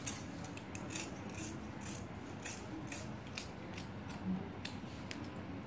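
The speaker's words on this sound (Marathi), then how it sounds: "हे जे आपण आतल्या भागाचं मार्किंग केलेलं आहे ते कापून घ्यायचं" Scissors cutting along the marked inner section of a blouse sleeve fabric on a tailoring table, a close, steady run of snipping and rustling strokes with no talk.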